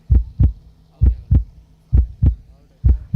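Heartbeat sound effect played by a DJ at a cricket match: loud, booming lub-dub thumps in three paired beats, evenly spaced and close, with a low hum running underneath.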